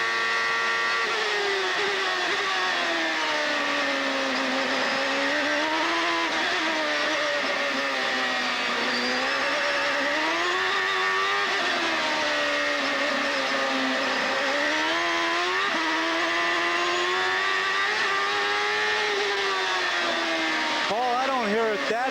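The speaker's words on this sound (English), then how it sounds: "As he came past the pits a few moments ago, they said the engine was running rough." A CART race car engine, Robbie Gordon's, drones continuously at high revs with a wavering, uneven pitch that rises and falls, loud and close throughout, with commentators talking over it.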